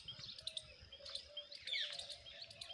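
Sparrows chirp and tweet in short, scattered bursts while being fed grain, faint and somewhat distant, with no talk over them.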